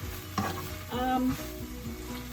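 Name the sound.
onions sautéing in a pot for Zuppa Toscana soup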